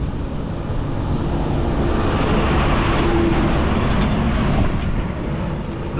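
A vehicle approaching on a road in Nepal, a broad, steady roar of engine and road noise that stays loud and close throughout without any voices.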